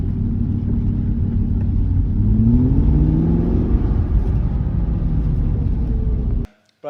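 A crash-damaged Aston Martin, now repaired, drives along with a steady close engine drone and rumble that swells slightly mid-way, then cuts off abruptly.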